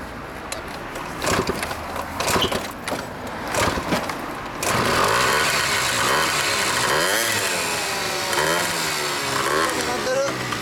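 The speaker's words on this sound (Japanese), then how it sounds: "エンジンかけてベリアルレーシング" Honda Lead 90 scooter fitted with a Burial Racing expansion-chamber exhaust, first crackling and popping in bursts, then settling into a loud, raspy two-stroke drone with wavering revs, close by and without talk.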